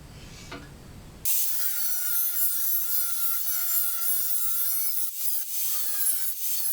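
A hand cutter works through Jeep fender flare tubing with a steady, continuous scraping grind close by, briefly interrupted near the end, after a short quieter lead-in.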